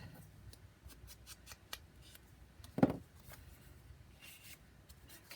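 Scissors snip through paper while a junk journal is being made, with a series of faint, quick cuts, one louder close snip, and light paper rustling in a quiet room.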